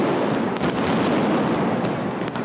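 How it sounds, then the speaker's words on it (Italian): A fireworks display bursts over a cathedral square during a religious festival with a crowd of devotees, a dense run of loud crackling pops and booming reports layered into a continuous roar, close and unrelenting. "per circa 15 minuti è stata un'esplosione di giochi di fuoco osservata dalla composta folla di devoti sullo sfondo della cattedrale"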